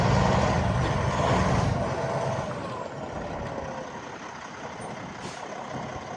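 A 2019 Freightliner Cascadia 125 day cab truck idles after starting, its diesel engine giving a steady, loud, close rumble that eases slightly in level over the seconds, with no talking.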